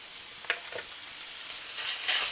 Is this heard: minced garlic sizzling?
yes